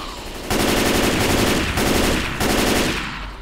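Sustained automatic gunfire from 5.56 armor-piercing rounds in Left 4 Dead 2, a loud continuous rattle of rapid shots broken by two short gaps, dense and close.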